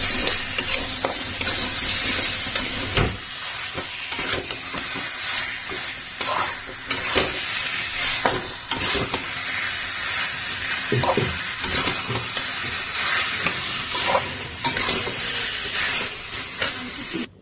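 Chicken pieces sizzle and fry in a spiced masala with tomatoes in a home kitchen pan, a steady close hiss broken by scraping stir strokes and occasional utensil knocks.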